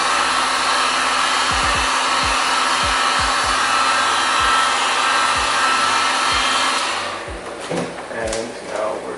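A heat gun on high heat blows steadily, a loud even whoosh as it warms Arlon printed vinyl wrap film, with light taps and handling clicks beneath, then it cuts off near the end, leaving faint movement noises.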